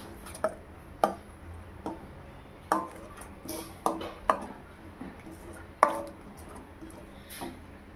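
A spoon stirring oil and green chillies in a cooking pan, giving soft, irregular clinks and scrapes at a fairly quiet level with no speech.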